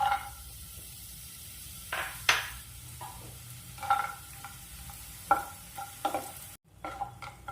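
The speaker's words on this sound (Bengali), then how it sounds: "তেল গরম হয়ে গেছে, বড়িগুলো ভেজে নিচ্ছি।" Lentil dumplings (bori) fry in hot oil in a kadai, a soft continuous sizzle punctuated by several sharp spatula scrapes and clinks against the pan, close and fairly quiet, with no talking.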